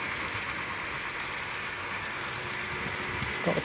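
A model train runs around a layout with a steady, faint rolling and clattering hum throughout, carrying on alone without voices.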